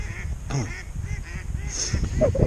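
Noisy ducks at a fishery lake, a busy flurry of quacks and honking calls over outdoor background noise, fairly close.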